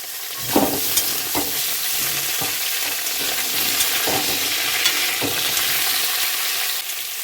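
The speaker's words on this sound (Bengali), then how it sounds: "এই সবজিগুলোকে হালকা ভাজা ভাজা করে নেব" Steady hissing sizzle of vegetables, including green plantain and onion, frying in oil, with occasional soft knocks and scrapes of a spoon stirring the pan.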